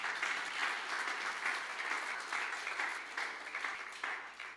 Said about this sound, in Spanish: Denle un aplauso, por favor, a Jesús.